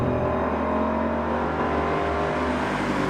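A Ford Mustang Boss 302 V8 drones steadily while driving, its engine note climbing and dropping through shifts in a loud, continuous cabin roar with no talk over it.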